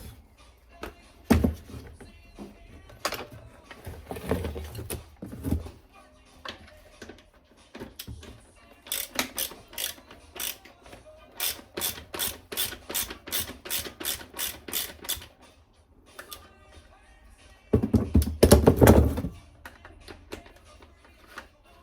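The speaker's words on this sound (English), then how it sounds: "We've got a T30 here and a 10mm bolt there. Let's get that off." A ratcheting hand tool removes T30 and 10mm bolts from the front indicator panel of a 2022 BMW XR on a bench, giving bursts of rapid, sharp clicks separated by quiet gaps and soft handling knocks.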